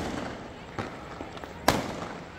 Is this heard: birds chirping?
no